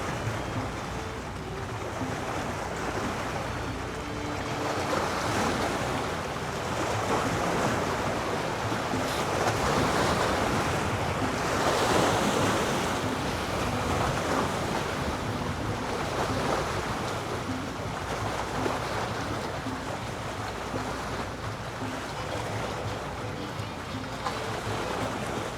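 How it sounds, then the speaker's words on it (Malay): A small boat pulls in at the Pulau Penyengat jetty amid broad wash of waves and wind, a dense continuous roar of water with gusty microphone buffeting and a faint engine hum underneath. "Ini ada bot baru sampai ni."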